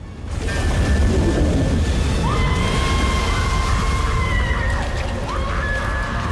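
A person falls into churning water in a film scene, heavy sloshing and turbulent splashing rolling continuously and loud, with faint whistling tones drifting over the watery roar.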